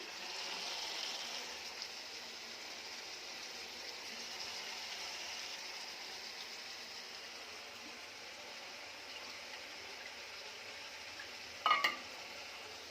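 Potatoes are fried in a covered pan with cooked greens (shak), giving a steady, soft, close sizzle throughout and a brief clatter near the end.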